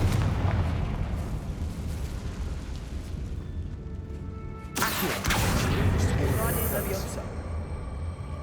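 A Confringo spell explodes in Hogwarts Legacy, a sudden fiery burst and crackling rumble that rises over continuous game background noise and music, with a voice casting the spell.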